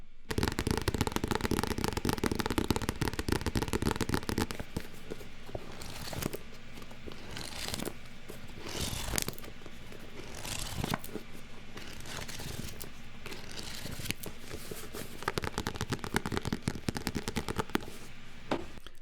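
ASMR tapping with crisp, dense clicks and knocks on a hard surface, played back continuously and up close with no talking; quick irregular taps layer over each other, heavy in the opening seconds and steady throughout.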